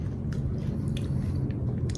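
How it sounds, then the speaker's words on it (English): Spicy buffalo-flavored protein chips being bitten and chewed up close, giving a steady crisp crunch with a few sharper snaps over a low, continuous mouth noise, no talking. "it has that crunch to it that you're looking for when you eat chips"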